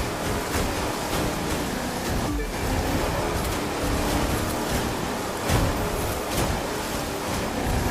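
A boat ploughs through deep water in the racing game The Crew 2, producing a continuous surging wash of waves and spray with a low engine-like rumble and occasional louder splashes.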